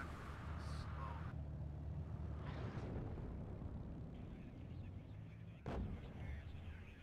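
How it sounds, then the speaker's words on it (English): Artillery firing in the WARNO war strategy game: a low, continuous battlefield rumble with scattered distant booms and one sharp close blast near the end, moderately quiet. "Oh, there's still artillery firing in there."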